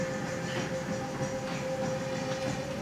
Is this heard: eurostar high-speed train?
yes